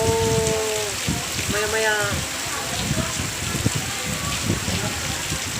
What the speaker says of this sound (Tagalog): umupo ako ngayon dito kasi umulan pa, no?